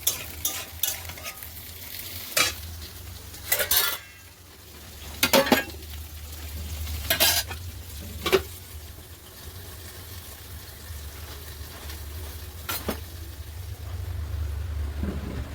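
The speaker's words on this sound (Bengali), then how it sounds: "এখানে কড়াইটা পটল দিয়ে দিচ্ছি, এখন পটল ভাজতে দিয়ে ওইদিকে যাবো আবার সবজি কাটতে।" Pointed gourd (potol) frying in a wok, a continuous low sizzle broken by sharp bursts of stirring and scraping against the pan at irregular intervals.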